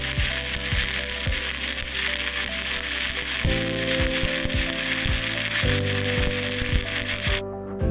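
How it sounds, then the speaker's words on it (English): Stick welding with a rod as the arc is struck: a loud, continuous crackling sizzle with a steady electrical hum under it and repeated sharp pops, close-up and unbroken for most of the time before it cuts off. "This is exactly how you strike the arc."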